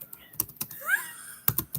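Typing on a computer keyboard, several quick, close key clicks in an irregular rhythm with a short pause, alongside a faint murmured voice.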